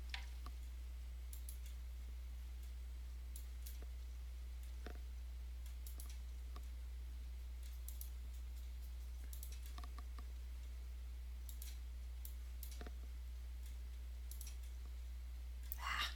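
A computer mouse clicks during map editing, with sharp single clicks repeated at irregular intervals over a steady low electrical hum.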